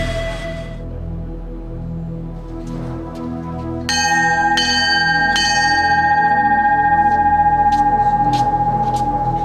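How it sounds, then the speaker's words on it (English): A bell rings out clearly, struck three times in quick succession during Navy SEAL BUD/S training, its bright metallic tone lingering and ringing on over a low rumble. "The bell sounds, and 8 more men ring out of Class 234."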